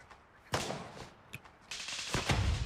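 Gunfire in the military shooter Gray Zone Warfare: a few sharp single reports, the first around half a second in, then a short louder burst near the end, set against quiet ambience.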